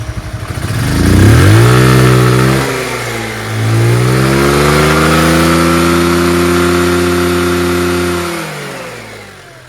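Chinese 150cc motor scooter engine running close and loud, revving up sharply then settling into a steady raised idle that slowly drops before cutting back near the end.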